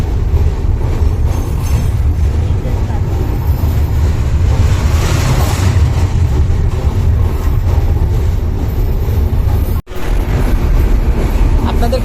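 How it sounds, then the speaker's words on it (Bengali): A train runs along the bank of the Jamuna river, its loud continuous rumble and rattle filling the whole span with a short sharp dropout near the end, no speech. "এদিকে এই যে ট্রেন সাথে চলছে, সাথে লাগায় একদম"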